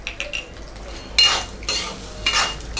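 Masala pori with peanuts, turmeric and chilli powder roasts in a pan, with scraping stir strokes and a few light metallic clinks over a faint background hiss, and no voices.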